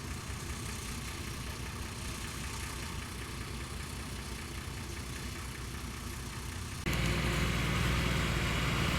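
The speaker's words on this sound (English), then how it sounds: "The vehicle moves slowly forward, the foot soldiers in the rear" A military vehicle's engine idles and chugs steadily as it creeps slowly forward, a continuous low rumbling drone that turns abruptly louder and rougher near the end.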